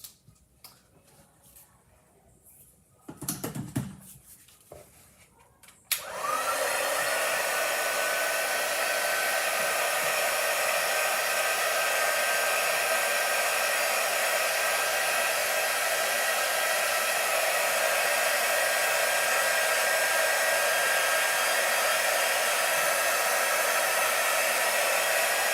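A hair dryer blows on chalk artwork of spring flowers, switching on after a few seconds of light handling noises and then running as a loud, steady, close whoosh until the end.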